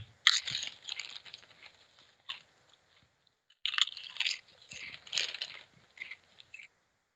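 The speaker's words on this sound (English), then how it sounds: "enjoy your chips, enjoy your flavor of Chicago" Potato chips with a Chicago-style flavor crunched and chewed close up, in two bursts of crisp, crackling bites separated by a short pause, with no talking.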